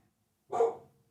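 A dog gives a single short bark from a room in the background, clear and moderately loud, with silence around it.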